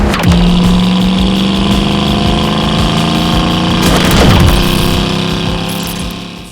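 A bright yellow 1969 Ford Mustang Coupe with its original 302 V8 and automatic transmission drives on a test drive, its engine a loud, steady droning hum with a rising rev partway through.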